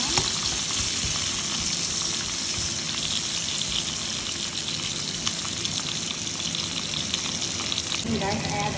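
Onion sizzles and crackles continuously in a hot pan, a dense close-up frying hiss with scattered pops throughout.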